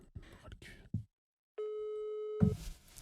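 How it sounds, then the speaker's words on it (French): Telephone line tone during a call being placed: a steady, held electronic tone lasting about a second alone in silence, with brief talk-like sounds before and after it. "Du coup, on appelle Audrey, peut-être"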